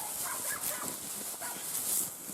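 A Laika dog outdoors gives faint, soft barks and whimpering yips in brief bursts over a couple of seconds, quiet and somewhat distant against a hissy background.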